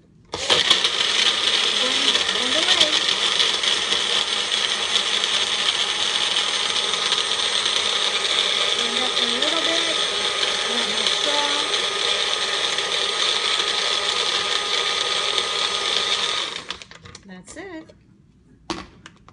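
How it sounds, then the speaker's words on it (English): A Magic Bullet blender whirs steadily and loudly while blending a Shakeology shake with added veggies, running for about sixteen seconds before cutting off, with a brief rattle afterward. "And all I do is I use this magic bullet blender."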